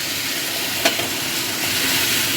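Kajri fish curry with potato and eggplant sautés in a hot pan, giving a steady broad sizzle with one brief sharp clink of a spoon near the start; no one speaks.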